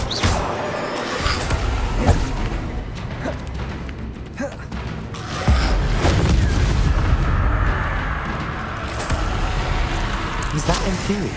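Repeated booming spell blasts from the video game Hogwarts Legacy, loud low-end explosions with a heavy burst around the middle, layered over continuous game noise and rumble.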